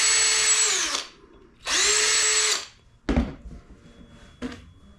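A power drill drives screws into a board during guitar building, with two loud, close whirring bursts that wind down in pitch at their ends, followed by a couple of knocking thunks.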